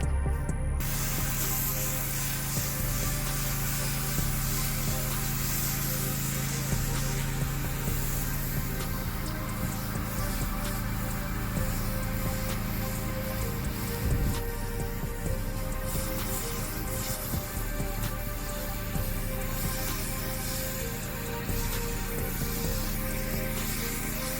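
A pressure washer sprays a surface during morning work in hot Florida weather, giving a steady, loud, continuous hiss and rush of water that runs without a break and with no talk over it.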